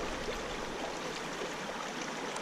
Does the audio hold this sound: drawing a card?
no